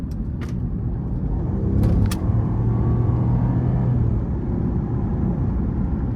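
A 2018 Mercedes-Maybach S650 with a V12 pulling hard in sport mode, a deep steady engine drone heard from inside the cabin, joined by a long rising tone through the middle and a few brief sharp clicks, no speech.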